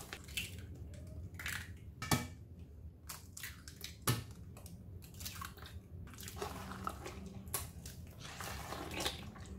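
Msemen dough is worked with sugar, oil and eggs, giving quiet, close wet squishes and soft sticky slaps with a few sharper clicks, low under faint room noise.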